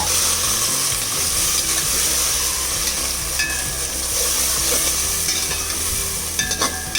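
Masala paste for chicken pulao frying and being stirred in a pot, a continuous loud sizzle with steady scraping stirring strokes and a few brief clinks near the end.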